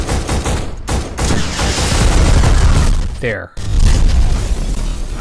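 Shotgun blasts and other gunfire in the video game Black, dense repeated booms and crackling bursts in a town firefight, loud and close, with a brief drop near the end and a short spoken word.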